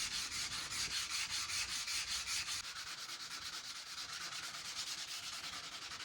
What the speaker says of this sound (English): After drying, I lightly sand the wood filler.